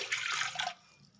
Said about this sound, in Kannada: ಈ ಗ್ಲಾಸಲ್ಲಿ ಎರಡು ಗ್ಲಾಸ್ ನೀರು ಹಾಕ್ಬೇಕು